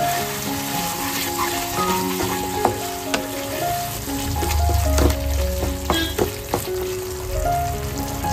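Cooked meat with garam masala fries and is stirred in a pan for Bengali meat chops: a continuous loud sizzle broken by sharp spatula scrapes and taps, with background music underneath.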